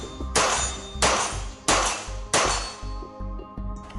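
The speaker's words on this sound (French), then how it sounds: "tir sur gong à vitesse soutenue avec point rouge plus magnifieur" A steel gong struck by rapid .22LR shots from a Kriss Vector SBR with red dot and magnifier, four loud ringing clangs at a steady pace, each decaying before the next, with faint reports between them.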